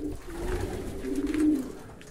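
A male pigeon coos in a loft as birds settle to mate and nest, giving a low, steady, rolling coo that swells to its loudest about two-thirds of the way through, close and alone.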